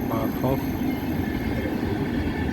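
Passenger wagons of the IC Chopin train, including a car from Budapest, roll past close by. They make a loud, steady rumbling roar of wheels and carriages with no breaks.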